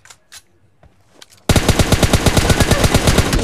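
Automatic gunfire in an intense multiplayer shooting game: after a few sparse shots and a quiet stretch, a loud, rapid, continuous burst of machine-gun fire erupts close by and keeps going.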